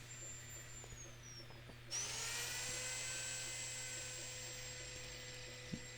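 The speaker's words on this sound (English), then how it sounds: "So I'm going to go ahead and sand this up." A wooden cigar ashtray spinning on a running lathe while a sanding pad is held lightly against it, giving a steady high whine and hum that jumps louder partway through and holds, with a brief tap near the end.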